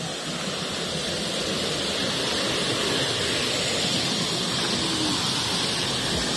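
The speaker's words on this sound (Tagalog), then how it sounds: "Parang hindi man humihina ang tubig dito." Strong rushing water near a reservoir on Section 10 of the MacLehose Trail, a loud, steady, unbroken roar that fills the whole stretch with no voices.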